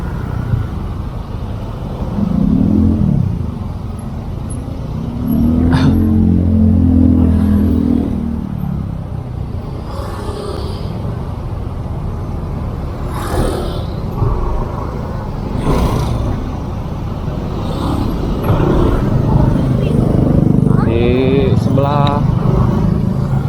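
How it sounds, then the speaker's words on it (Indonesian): Jammed traffic on Jalan Radio with cars and motorcycles idling, creeping and revving nearby, a steady engine drone with passing bikes and occasional louder surges, while a person talks over it for much of the time. "Ini paling ya macetnya lumayan panjang di sini teman-teman"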